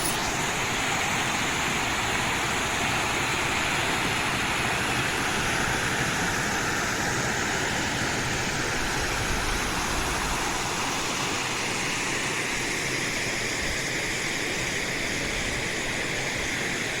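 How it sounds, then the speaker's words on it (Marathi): A steady, loud rush of falling water roars without pause from a waterfall at Nandore Devkhop dam, Palghar, a dense, unchanging wash of noise close by with no voices. "वॉटरफॉल"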